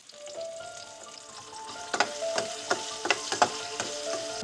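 Onions sizzle as they fry in a pan on a home stove, a steady crackling hiss with sharp stirring clicks and scrapes growing more frequent toward the end, close and fairly quiet, with no talking.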